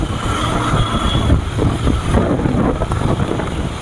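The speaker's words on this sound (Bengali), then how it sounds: "দেখতেই পাচ্ছ কতটা জোরে বৃষ্টি পড়ছে এবং হাওয়া দিচ্ছে।" Heavy rain and strong wind from Cyclone Remal in Kolkata roar as a loud, continuous broadband rush with gusty buffeting against the microphone, without any voices.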